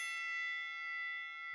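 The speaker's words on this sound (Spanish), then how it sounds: "¡Que suene la campana!" A single bright bell strike rings out and decays slowly over about a second and a half, clear and alone, sounding like a boxing-style round bell.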